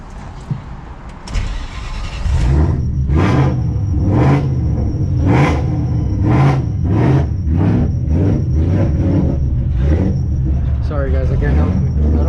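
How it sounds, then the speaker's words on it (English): A Shelby car engine running on E85 gives a deep, loud rumble with rhythmic pulses and revs, close by, after a short quieter stretch at the start. "I don't get tired of hearing this car."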